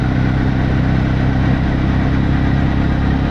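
A motorcycle engine runs steadily while riding along a rough road, a loud, continuous close drone with even vibration and no variation.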